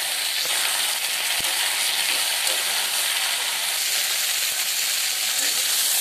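Chopped vegetables for a Bengali chhyachra sizzle and fry in a pan while being stirred and mixed, a steady broad hiss with a faint scrape or two, close and continuous.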